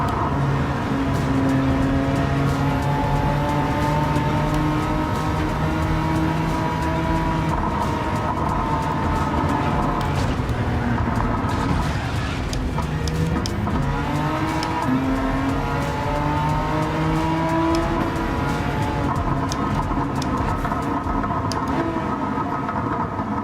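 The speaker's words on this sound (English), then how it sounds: "The revs revving and not going anywhere." Gran Turismo 7 race car engine revving with spinning wheels that find no traction, rising and falling revs held steady for over twenty seconds, loud and continuous with no speech.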